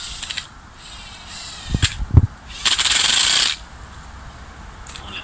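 A screw is driven in to fix a tree in place, giving a few creaking, ratcheting mechanical bursts and one longer grinding run, close and fairly loud against quiet surroundings.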